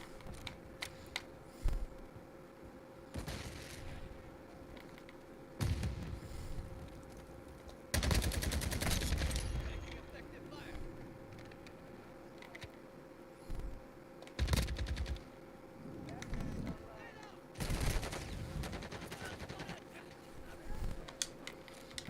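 Gunfire in a video game, a gun fired in repeated bursts of shots with pauses between, loud and close, some volleys long and dense, others short.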